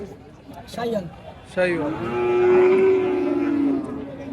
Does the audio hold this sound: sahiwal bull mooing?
yes